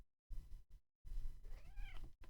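Close by, a cat lets out short meow calls in a few bursts, with one rising and falling drawn-out meow near the end.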